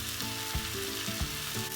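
Methi (fenugreek) chicken fries in desi ghee in a pan, giving a steady close sizzle with a few soft stirring knocks and scrapes. No voices are heard.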